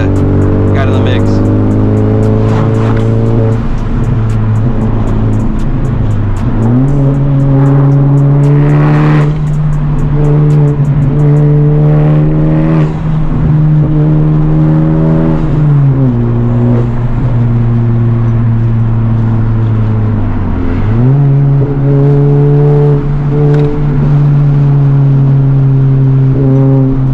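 Sports cars, including several Honda Civic Type Rs and a Corvette, rev hard on a Sunday canyon run. A loud, close engine note climbs through the gears, drops on each shift and keeps going for the whole stretch.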